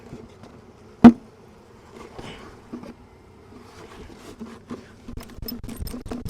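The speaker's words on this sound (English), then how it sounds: "this colony's same, 4 or 5 seams of bees in there" A low, steady buzz of many bees close by in a hive with four or five seams of bees, one sharp knock early on and the humming growing busier toward the end.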